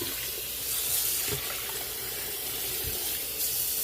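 Tap water runs steadily into a sink, rinsing the starch off cooked fettuccine noodles, a continuous close hissing splash with slight shifts in flow and no talk.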